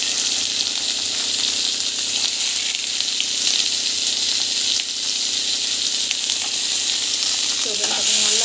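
Mustard seeds, cumin, chilli and onion frying in hot oil, a loud, dense, continuous sizzle and crackle close up, with occasional stirring scrapes near the end.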